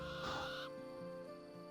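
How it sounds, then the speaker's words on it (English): An owl calling at night in the hunting game Hunter: Call of the Wild, a short hooting call rising briefly over a steady hum of night ambience and then fading. "There was the owl."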